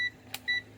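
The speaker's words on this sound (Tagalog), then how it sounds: "buzzer." A digital multimeter's continuity buzzer gives two short high electronic beeps, separated by a faint click, while a Samsung circuit board's SMD capacitors are probed, over a low background hum.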